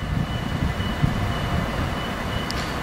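A steady low rumble of a Danish intercity train departing toward Aarhus, continuous and fairly loud, with faint rattling over the top.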